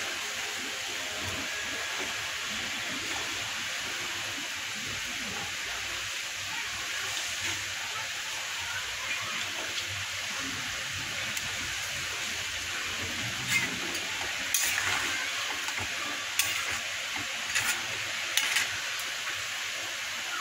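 A Bengali fish curry with potatoes simmering in a pot, a soft steady bubbling and hiss that runs continuously at low level, with a few light clinks toward the end.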